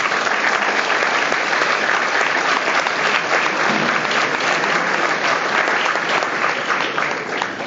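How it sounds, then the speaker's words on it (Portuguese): A large crowd at a political party dinner for about a thousand members in Odivelas breaks into sustained, loud, steady applause that fills the room throughout without a break. "Uma saudação especial, umas palmas para Nuno Gaudêncio."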